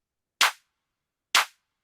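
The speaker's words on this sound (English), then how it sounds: "we have a clap right here. Sounds like this." Two crisp, snappy electronic clap hits from a dance-music remix, evenly spaced about a second apart, each short and bright with a quick decay, sounding alone against silence.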